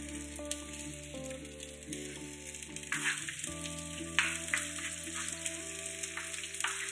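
Chopped onion sizzles in oil in a frying pan, a soft, steady frying hiss with a constant low hum and tonal background sounds, fairly quiet throughout with no speech.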